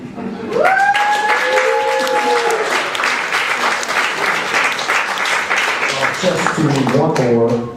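Loud, sustained audience applause at a comedy show, dense clapping filling the room from start to finish, with a performer's voice talking and cheering over it.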